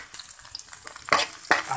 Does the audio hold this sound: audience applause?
no